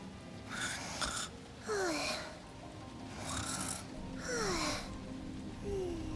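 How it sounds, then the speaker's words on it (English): Heavy snoring from a car passenger in the video game Neverness To Everness repeats in slow, regular breaths, with rasping inhales and gliding tones over a low engine-like hum. "Heavy snoring from the passenger seat."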